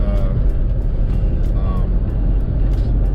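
Steady, loud engine and road drone from inside a 20-year-old Mercedes-Benz sedan on the move, a constant low rumble with no talk over it.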